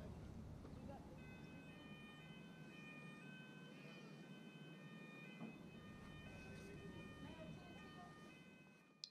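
A steady two-tone warning siren from a swing bridge at a canal lock wails faintly at a distance over low background rumble, with soft talk in the background.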